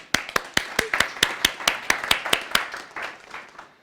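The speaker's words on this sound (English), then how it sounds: "Let's greet them with applause." Sharp hand claps ring out in a quick, uneven rhythm, a small group applauding close by before the clapping thins and fades.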